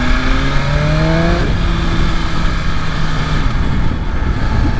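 A 2025 BMW S1000RR motorcycle engine revs and accelerates on the street, rising harmonic tones climbing in pitch then settling, steady and fairly loud with constant road and wind noise throughout.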